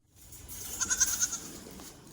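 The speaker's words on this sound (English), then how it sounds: "These guys are mini La Manchas, which is a La Mancha Nigerian dwarf cross." Mini La Mancha and Nigerian dwarf cross goats give a short burst of several quick, wavering bleats close by, rising and fading within about a second.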